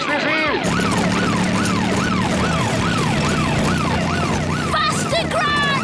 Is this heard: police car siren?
yes